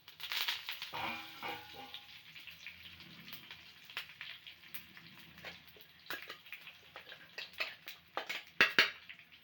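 Curry leaves crackling in hot tempering oil, an irregular spitting and popping sizzle at moderate volume with sharp bursts toward the end.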